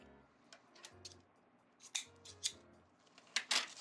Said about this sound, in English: check all the tails right now so we can be done with the scissors